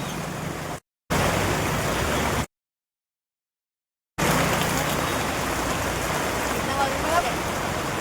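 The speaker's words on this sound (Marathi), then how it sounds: "एवढ्या जोरात पाऊस चालू झाला ना." Heavy rain pours steadily during a night walk, a dense loud hiss broken by two abrupt cuts to silence before it resumes without letup.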